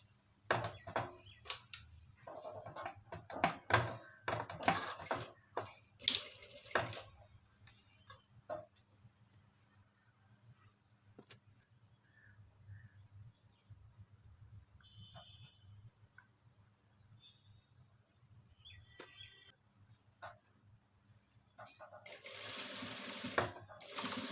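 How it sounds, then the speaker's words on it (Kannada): A sewing machine runs an edge stitch along a fabric edge in several bursts of rapid mechanical whirring, with clicks and handling noises between runs and a longer run near the end. "ಇದು ಬ್ಯಾಕು ಎಡ್ಜ್ ಸ್ಟಿಚ್ ಆಗ್ತಾ ಇದೀನಿ ನೋಡಿ"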